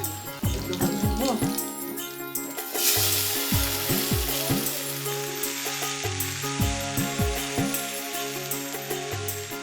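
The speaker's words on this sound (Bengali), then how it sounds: "ফোড়ন দিয়ে বসিয়ে দিলেন সবজি, সাথে আস্ত কাঁচামরিচ" Vegetables hit hot oil tempered with cumin and bay leaf, with whole green chilies, sizzling loudly and crackling throughout while utensils clank and a voice talks nearby.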